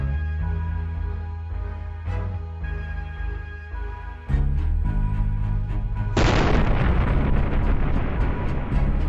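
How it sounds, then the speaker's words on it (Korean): Simulated nuclear explosions modeled on Little Boy and Fat Man, heard as deep rumbling booms that build, then a massive roaring blast that swells and stays loud and dense to the end. "이 두 폭발은 과거 일본의 참교육을 담당했었던 리틀보이와 팬맨이다"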